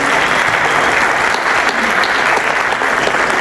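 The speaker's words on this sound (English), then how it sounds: "So please give a nice round of applause." Sustained, dense applause from a keynote audience at an expo in Torrevieja, steady and loud throughout with no speech over it.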